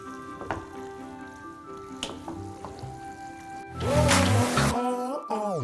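Pasta with shrimp and pesto is stirred in a hot pan, giving a steady soft sizzle broken by a few scrapes and then a louder, rougher burst of stirring near the end.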